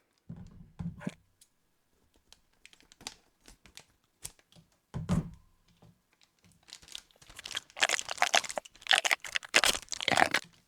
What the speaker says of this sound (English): So let's go ahead and open this up.